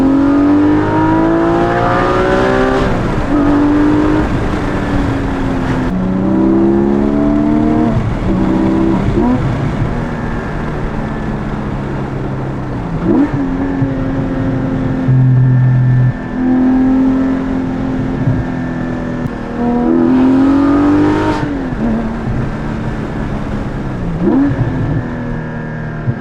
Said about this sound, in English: Giving it that GT4 RS type sound, the RSR sound, which is so much more fitting to this type of vehicle.